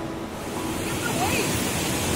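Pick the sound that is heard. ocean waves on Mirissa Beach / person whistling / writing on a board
ocean waves on Mirissa Beach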